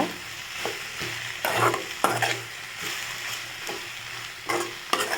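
Okra sautés in a hot pan, a soft steady sizzle under regular scraping stirs that come every second or so, close and moderately loud.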